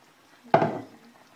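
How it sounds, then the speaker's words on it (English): Garlic and ginger sauce hits a hot pan and bursts into a loud, close sizzle that swells suddenly, then slowly fades away over about a second, with no talking. "Much sizzles."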